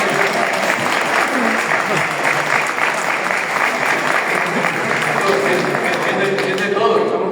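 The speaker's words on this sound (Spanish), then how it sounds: "Venga, un aplauso para él." An audience in a hall breaks into sustained, dense applause, steady and fairly loud throughout, with a few indistinct voices mixed into the clapping.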